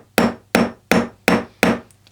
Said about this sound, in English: I just get the hammer that we're working with, it's got a nice flat surface